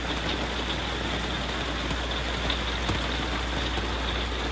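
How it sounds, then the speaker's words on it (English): Steady rain falls after a thunderstorm onto a pop-up camper, a dense, even patter that stays constant and moderately loud throughout with no talking. "Here comes the rain."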